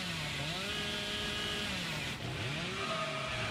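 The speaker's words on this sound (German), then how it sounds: "Da habt ihr gesehen, die Kettensäge lädt sich blau auf." In Dead by Daylight, a chainsaw charges with a droning mechanical whine whose pitch bends and sweeps up and down, steady and prominent, dipping briefly midway before revving on.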